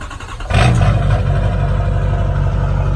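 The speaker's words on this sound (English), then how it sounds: "this is going to be, unfortunately, one of the final startups of the Duramax" An LB7 Duramax diesel truck engine cranks and catches after a brief quiet moment, then settles into a loud, steady, rumbling idle close by.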